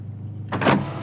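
An electric roof window on a car motors open: a short, close whirring hum starts abruptly after a moment of quiet engine idle and runs for about half a second.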